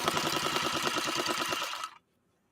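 A 1953 Singer 301A sewing machine stitches through tough acrylic fiber with a fast, steady mechanical chatter of needle strokes, loud and close, then stops abruptly, leaving near silence.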